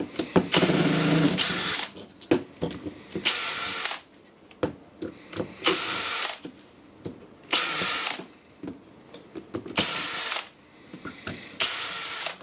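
A Milwaukee M12 12V cordless drill with a burned, sparking motor runs in short repeated bursts with gaps between them, a high whirring tone each time it is triggered, close and fairly loud.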